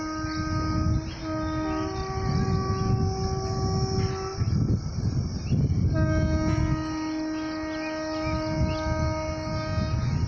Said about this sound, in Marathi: गाडीचा हॉर्नचा आवाज येतोय।